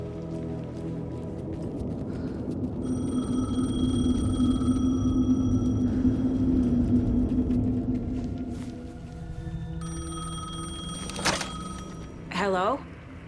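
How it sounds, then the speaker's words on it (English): A payphone in the video game Alan Wake 2 rings in repeated electronic trilling bursts over a low rumbling ambience and rain, fairly distinct and moderately loud, with a voice speaking alongside. "The payphone was ringing."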